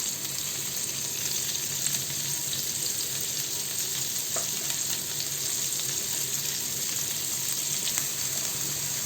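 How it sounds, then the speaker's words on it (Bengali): Onions fry in the same pan just used for frying rohu fish, giving a dense, even sizzle that holds steady and fairly loud the whole way through, with a faint tap or two and no speech. "আচ্ছা একই প্যানে আমি পেঁয়াজ দিয়ে দিলাম"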